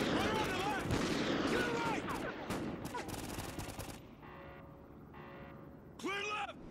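Gunfire in Call of Duty Ghosts, a sniper mission with sharp shots crackling amid an action-game mix, voices talking over them before the sound thins out.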